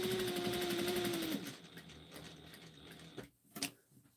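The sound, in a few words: sewing machine stitching a trick or treat basket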